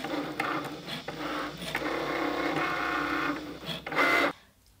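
A Cricut cutting machine runs steadily as it cuts sport flex heat-transfer vinyl on its mat, giving a continuous whirring, buzzing motor sound with small rhythmic clicks before it stops abruptly at the end.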